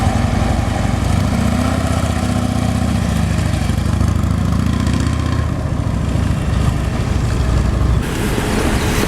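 Loud, steady police motorcycle engine rumbling close by, idling and revving unevenly, with no voices over it.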